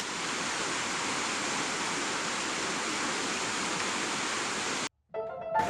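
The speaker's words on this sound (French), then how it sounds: "Et on est juste au bord de la rivière" A river in the Pyrenees rushes past the Le Pain de Sucre campsite, a loud, steady broadband roar of flowing water that cuts out abruptly near the end before a brief, fainter burst returns.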